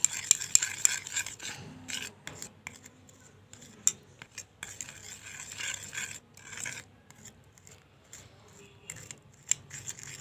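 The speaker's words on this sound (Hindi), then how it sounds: "थोड़ा सा हम इसमें नमक ऐड करेंगे। इसे अच्छे तरीके से आप लोगों ने मिक्स कर लेना है।" A home remedy being mixed with salt in a small bowl, with light scraping and rubbing strokes in irregular bursts and a few sharp clicks, close and fairly faint, with no talk.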